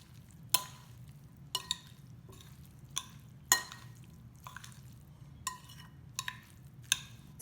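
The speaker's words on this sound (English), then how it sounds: "I'm going to mix the onion and meat." Onion and meat filling for samsa being mixed in a bowl, soft wet squelches and occasional clinks recurring at a slow, irregular rhythm, quiet and close with no talk.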